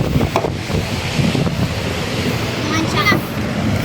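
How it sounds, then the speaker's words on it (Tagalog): Strong wind blows outdoors and batters the microphone with a continuous, rumbling roar that surges in gusts. Faint voices sit in the background. "Lakas ng hangin."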